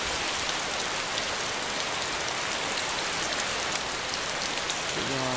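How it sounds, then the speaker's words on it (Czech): Rain falls steadily in the video game DayZ, a constant loud hiss of drops on surfaces throughout, with a faint tonal sound entering at the very end. "Jo, to fakt prší, to je nepříjemný."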